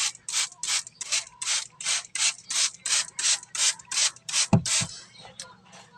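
A handheld trigger spray bottle squirts water over mung bean sprouts, about fourteen quick, evenly spaced hissing pumps close up, with a soft knock near the end.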